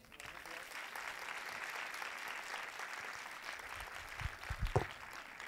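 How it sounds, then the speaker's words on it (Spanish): Soft, continuous applause from an audience at a tablet presentation, even and somewhat distant, with a few closer, heavier claps and knocks standing out near the end. "Un aplauso"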